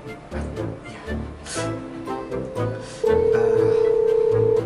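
Outgoing phone call on a drama, a steady ringback tone sounding in the second half over a busy background of music and noise, clear and fairly loud.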